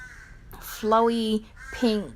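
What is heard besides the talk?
birds calling outside, crows cawing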